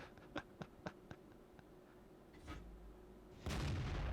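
Tank cannon fire in World of Tanks: a quick series of sharp, fairly faint shots at a steady rhythm, then a rumble and a louder, sustained boom at the close.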